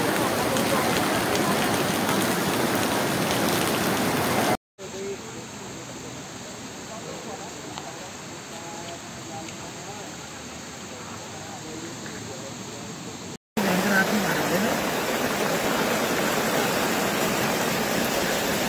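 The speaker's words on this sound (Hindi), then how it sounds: "पानी का जो है बहाव बहुत तेज हो चुका है" Fast-flowing floodwater after torrential rain in Rishikesh, a loud, steady rushing hiss that drops to a quieter, more distant wash midway before returning at full strength, with voices heard at times.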